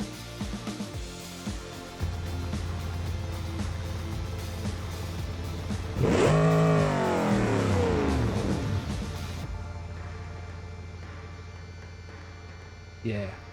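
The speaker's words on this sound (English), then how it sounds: "Here's our engine, so we can set our idle." A car engine in BeamNG hums steadily at idle, then revs up and sweeps down in pitch mid-clip before settling back, with a voice talking over it.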